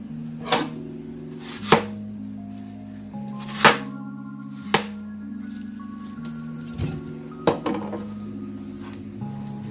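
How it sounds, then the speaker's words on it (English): A knife cutting watermelon into cubes on a board, sharp distinct chops at an irregular pace, seven or eight close thuds over a steady background hum, no talking. "Now we're gonna cut the watermelon in cubes, so it's easy to blend in the blender."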